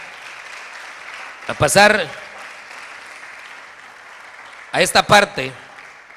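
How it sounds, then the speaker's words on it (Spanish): A church congregation applauds during a sermon. The clapping forms a steady, moderately loud wash, and a preacher's voice breaks in over it twice in short bursts. "Le da un aplauso al Rey, hermano, con todo su corazón"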